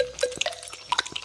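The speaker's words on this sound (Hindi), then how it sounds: "टिडलेक पानी बहुत तेजी से पी रहा था।" A cartoon frog gulps water quickly, a faint run of small wet drip-like plips and gulps in uneven quick succession, close and quiet.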